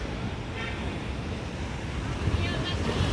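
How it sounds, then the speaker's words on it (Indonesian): Broad, steady roar of large midday ocean surf and wind on the coast near Mandeh, West Sumatra, with waves washing in continuously and a slight swell in loudness near the end. "Ombak sangat besar sekali ini di siang hari ini."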